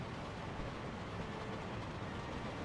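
A train running in the video game Workers & Resources, at night: a steady, fairly quiet rolling rumble with a faint clatter that carries on without a break and with no talking.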